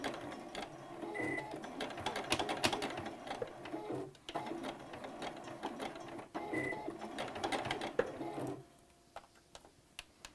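A sewing machine back-stitches over a pleat on a fabric face mask, its motor buzzing in continuous runs with a brief pause midway, then cutting out near the end; no talking.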